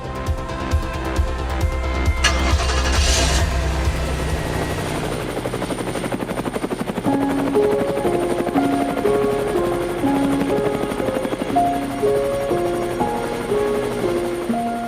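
Loud, steady helicopter rotor thump and engine whine over Manhattan, New York City, with a bright piano melody playing over the machine noise after the first few seconds.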